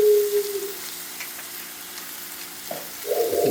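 Vegetables sautéing in a pan for salmon and shrimp seafood cakes, a soft continuous sizzle under brief bursts of voice at the start and end.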